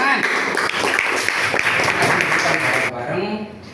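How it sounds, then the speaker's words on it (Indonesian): A classroom of students claps during a religious studies lesson, producing dense clapping mixed with voices that stops abruptly near the end, after which speech continues. "Terima kasih. Tepuk tangan."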